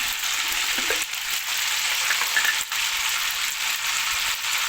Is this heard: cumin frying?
yes